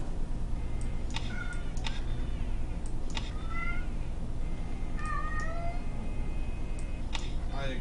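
A cat meows in The Pandora Directive video game: several short, bright meows spaced across the stretch over a steady low background hum, with a voice talking faintly at times.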